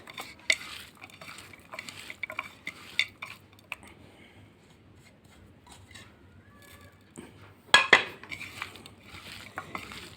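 Sausage casings for bombar being rubbed and worked around in a pot, producing irregular scraping, clinking and wet squelching taps, fairly close and intermittent, with a louder clatter near the end.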